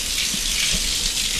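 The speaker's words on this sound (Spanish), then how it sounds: "cuando la abría pues salía este chorro" A strong jet of water gushes from a bathtub tap, a dense, continuous hissing splash that stays steady and close.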